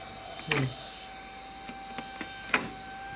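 A small portable electric fan runs with a faint, steady motor hum and a thin whine. A couple of brief knocks sound near the start and end.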